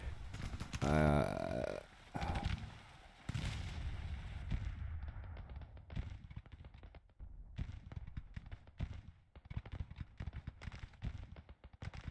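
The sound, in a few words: counter-battery artillery fire in the video game Grand Tactician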